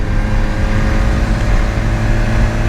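A 2019 BMW S1000R motorcycle ridden along the Angeles Crest mountain road, its engine a steady, loud drone with a constant buzzing hum and some wind rush, holding even throughout.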